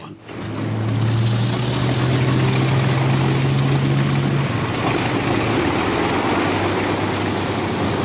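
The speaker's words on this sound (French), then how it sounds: "Les bombardiers Mosquito commencent à décoller en ordre d'attaque." Engines of Mosquito bombers roar up loud and close as the aircraft take off in attack order, a sustained droning rumble with a steady low hum that holds for several seconds.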